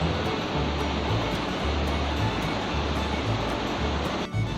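Curug Dendeng waterfall in Bogor, fed by the Citempuhan River and dropping into a pool below, gives a steady, dense roar of falling water that stays loud and unbroken throughout, with no voices.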